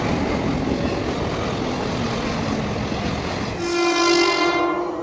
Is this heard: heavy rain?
no